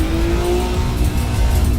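Race car in the Assetto Corsa EVO racing game braking hard, a steady loud engine drone with a sustained tone and a faint tire squeal, continuous throughout with no talking.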